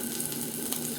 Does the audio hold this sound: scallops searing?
yes